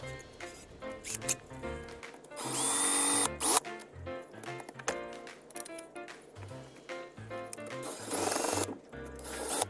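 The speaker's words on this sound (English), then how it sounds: "I used a drill bit to drill out the rivets" A power drill whines in short bursts, then runs steadily for about a second, grinding as it bites through metal rivets on a 1947 Westclox electric wall clock, close by with pauses between.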